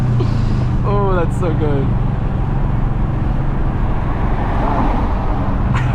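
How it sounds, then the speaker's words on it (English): A turbocharged Porsche at a car show runs with a loud, steady low engine rumble. People talk and cheer close by over it. "that Porsche sounds like it got a little turbo"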